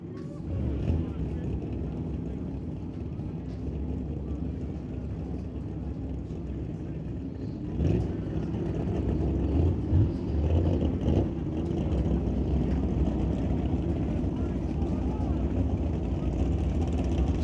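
Drag racing motorcycles at Mission Raceway Park, at an outlaw shootout event, make a dense, steady low engine rumble that grows thicker and louder partway through.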